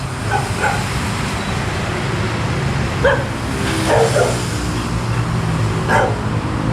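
Dogs bark a few times in short clusters at a distance, heard over steady traffic and roadway rumble in a noisy neighbourhood near a highway and park.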